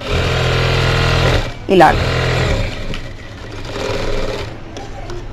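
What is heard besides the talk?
sewing machine stitching a collar neck dress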